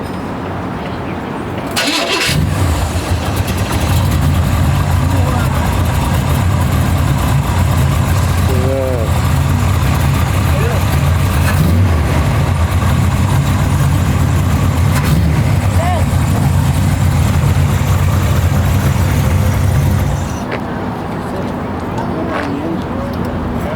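A custom car's original engine, rebuilt for more speed, cranks and fires at a Hot Wheels Legends car event in Baldwin Park, California, with the hood open. It then idles loud and steady for about eighteen seconds before cutting off.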